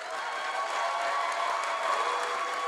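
An audience claps together in a room during a talk on Native Hawaiian health, steady dense applause that holds at an even level throughout, with no voices over it.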